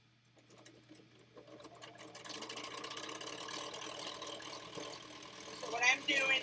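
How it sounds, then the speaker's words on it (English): A sewing machine stitches quilt pieces together in a continuous motor whir with a mechanical needle clatter. It starts quietly and then runs steadily at close range, with no one talking. "let's sew these together"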